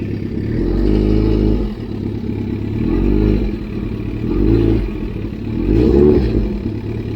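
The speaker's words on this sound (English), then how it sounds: "When the idle goes down, that's when it's gonna stop." A Yamaha Super Tenere motorcycle engine idles close by, a low steady rumble that swells and sags in slow waves as the idle drops toward stalling.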